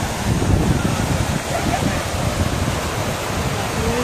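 Water rushing at Bushi dam in Lonavla during the monsoon, a loud steady broadband roar filling the whole clip with no clear speech over it.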